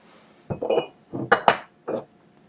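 Metal pot lid and cookware clink and clatter on a stovetop as a pot of red wine pork belly is covered to simmer, several short knocks spread over a couple of seconds, close and fairly quiet.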